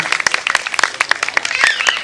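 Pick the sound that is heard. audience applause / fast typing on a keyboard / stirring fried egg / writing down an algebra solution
audience applause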